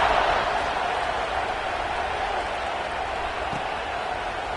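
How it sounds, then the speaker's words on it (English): Steady roar of a packed stadium crowd at a North Carolina vs Tennessee college football game, a dense, sustained wash of cheering and noise at kickoff that holds level throughout with no break. "You think this crowd's going to get loud when their defense comes on the field?"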